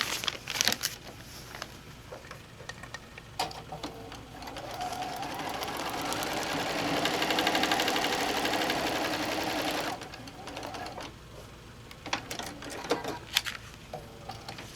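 A sewing machine stitches a seam on a paper-pieced quilt block, a rapid close whirring run of about six seconds between quieter handling clicks and paper rustles.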